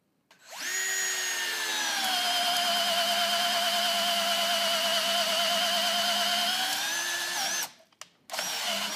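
A Porter-Cable 20V lithium-ion 1/2-inch drill/driver whirs steadily at high speed for about seven seconds, close and loud, then winds down and stops before a brief second burst.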